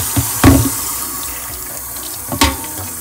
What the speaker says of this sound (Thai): ล้างให้ทั่วนะครับ